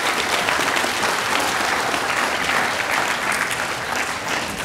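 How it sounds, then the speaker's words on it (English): A crowd at an elementary-division science fair awards ceremony breaks into loud, dense applause, steady and sustained throughout and easing slightly toward the end. "if we could get a round of applause to say thank you"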